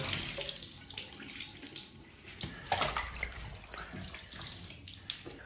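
Water running and splashing in a flooded flat where a leak keeps dripping, a steady broadband wash of flow with uneven spatters and brief louder splashes, close and continuous with no voices.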